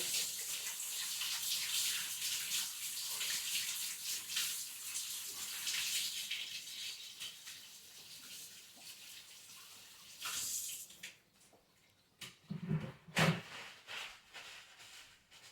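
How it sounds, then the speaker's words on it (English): Running water pours over hands as biscuit dough is rinsed off outdoors at a Wyoming cowboy camp, a steady splashing stream for about ten seconds, then a few louder, broken splashes as the flow is interrupted. "Then I have to wash one last time here, get this extra off my hand."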